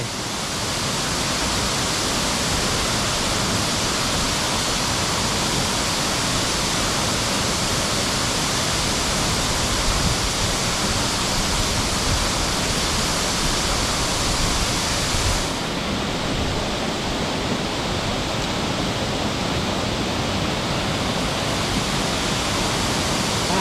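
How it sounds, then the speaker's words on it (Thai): Steady, full-bodied roar of falling water at Ta Saloei waterfall near Xam Neua, Laos, constant and loud throughout with no pauses, like standing close to the falls. "น้ำตกตาซะเลย"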